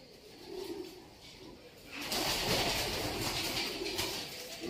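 Pigeons coo in a crowded loft holding many birds, soft repeated calls at first, then a louder burst of fluttering and busy bird noise filling the space, with people talking quietly nearby.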